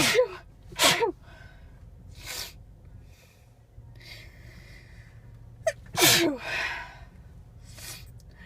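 Two loud sneezes from a woman while parking a car, each preceded by a quick intake of breath, separated by several seconds of soft breathing and a low car interior hum.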